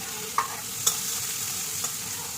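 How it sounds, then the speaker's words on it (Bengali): Onions frying in a pan with green chilli and asafoetida give a steady hiss, broken by a few quick scraping stirs. "পেঁয়াজটা ভাজা ভাজা হবে"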